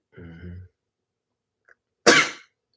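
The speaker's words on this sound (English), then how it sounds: "I love to sneeze." A single sharp, loud sneeze bursts out near the end, after a short stretch of voice and a brief pause.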